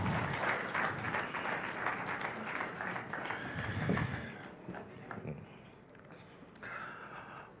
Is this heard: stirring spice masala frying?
no